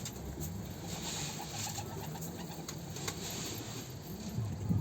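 Pigeons coo softly and repeatedly against a steady background hum, the low calls rising and falling without pause.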